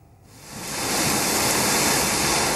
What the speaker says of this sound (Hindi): बुंदेलखंड के ललितपुर में पिछले 3 दिनों से लगातार बारिश हो रही है।